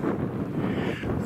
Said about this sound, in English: The wind's back anyway